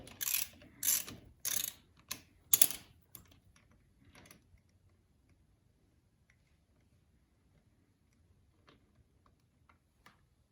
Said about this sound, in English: Go ahead and remove the drain bolt.